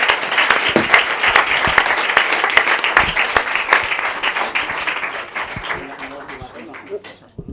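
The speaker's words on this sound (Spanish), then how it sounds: "Yo os pido un aplauso para todo lo que estáis haciendo" An audience at a conference on impact financing breaks into steady applause, dense clapping that holds strong for several seconds and then thins and fades out at the end.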